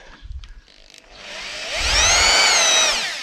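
A drill bit bores into wood while making homemade dowels: a low rumble rises at about a second into a loud, steady whine with wavering pitch that holds to the end.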